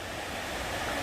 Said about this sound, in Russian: Вода шумит.